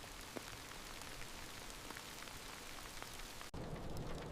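Heavy rain drums steadily on a metal roof, a dense, even wash of close patter that cuts off abruptly near the end, with no voices.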